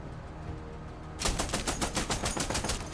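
Rapid burst of gunfire in the tactical video game Menace, a loud run of repeated shots starting abruptly after a quiet stretch and continuing steadily to the end.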